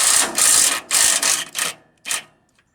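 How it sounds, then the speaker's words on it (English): Bolts being loosened on a Jeep Wrangler YJ fender, likely with a power impact tool: loud close rattling bursts, several in a row, ending in a shorter final burst with no talking. "So first things first, get them bolts loosened up."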